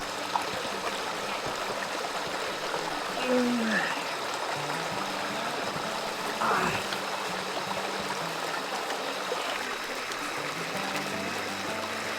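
A forest stream on a multi-day mountain hiking trail flows with a constant rushing, gurgling wash of water, steady and fairly close throughout, with no distinct talk.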